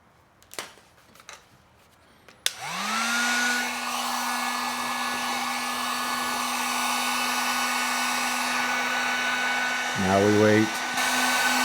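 A few clicks and handling knocks come first, then a heat gun on its low setting starts with a rising whine and settles into a loud, steady blowing drone. Someone speaks briefly over it near the end.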